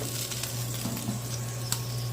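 A pork shoulder with its fat cap searing while it roasts, giving a steady soft sizzle over a low constant hum, with a single faint tick near the end and no voices.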